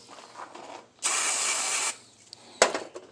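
Brake cleaner from AutoZone sprays in one steady hiss of about a second during work on a Honda Pioneer's wheel bearings, followed later by a short sharp burst, with quiet handling noises between.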